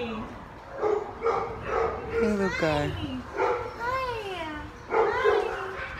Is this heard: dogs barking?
yes